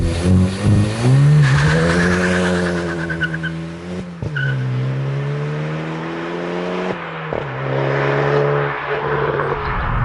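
A 2021 Hyundai i20 N hot hatchback's engine revs hard and loud in N mode, its exhaust roaring and rising in pitch through several sustained pulls, with brief dips between them.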